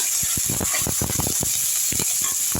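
Dry red chillies and curry leaves splutter in hot ghee, a rapid run of sharp crackles and pops over a steady bright sizzle, close and continuous for a couple of seconds.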